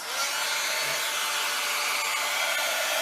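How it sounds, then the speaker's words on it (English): A heat gun for embossing powder blows hot air with a loud, steady whooshing roar that holds constant for a few seconds. "Let's get the heat gun."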